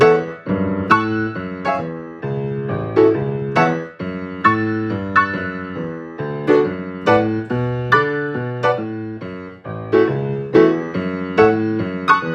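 Solo piano playing a swing rhythm, with repeated offbeat octave jumps in a bouncy, evenly pulsing pattern, close and clear with no talking.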